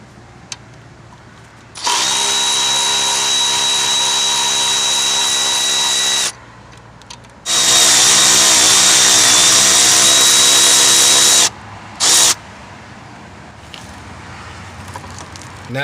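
A power ratchet or drill spins a 14mm socket to remove the hold-down bracket bolt between the alternator and manifold on a 1993–98 Jeep Grand Cherokee, running in two loud, sustained whirring bursts with a short blip after.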